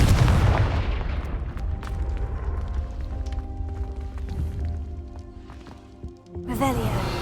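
A Confringo blasting spell explodes in Hogwarts Legacy, a loud booming burst that rolls into a decaying rumble, followed by a second sharp blast near the end.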